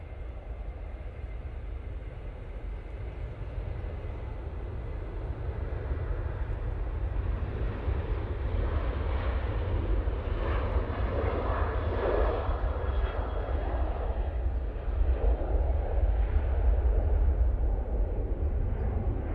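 A Ryanair Boeing 737-800 departing from Manchester Airport, its jet engines a steady, broad roar that builds slightly and holds throughout at moderate distance, with no voices.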